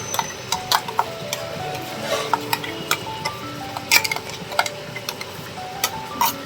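Chicken and onion frying in a pan as spice paste goes in, heard as a steady low sizzle broken by frequent sharp ticks and clinks of a utensil against the pan, close and fairly quiet.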